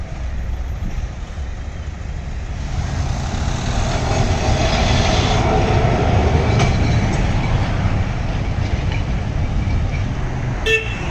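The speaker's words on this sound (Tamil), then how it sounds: "ஸோ இதாங்க நம்ம வந்து ட்ராம் ட்ரெயின் அப்படியே சிக்னலில் நின்றுருக்கு." A Kolkata tram standing at a signal on the street, giving a steady loud rumble with street traffic around it and a short horn toot near the end; no one speaks.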